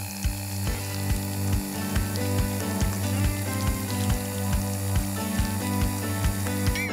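An electric mixer beats 250 g of butter with a packet of softened cream cheese, a steady mechanical whir with a regular rattling pulse, loud and close.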